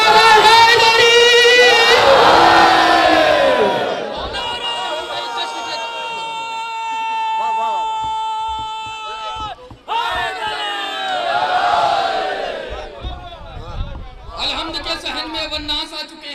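A festive crowd at a jashn celebration at Dargah Hazrat Abbas in Lucknow shouts a slogan together in loud unison bursts, with a sustained musical or recited passage in the middle and more massed voices later.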